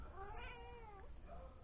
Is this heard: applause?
no